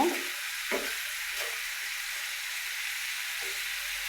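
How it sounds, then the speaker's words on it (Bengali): Snake gourd frying with salt in a pan gives a steady soft sizzling hiss, broken by a few brief scraping stirs near the start and again later. "এখন দিয়ে দেবো একটু লবণ এখন আমি একটু নেড়ে ছেড়ে দিব"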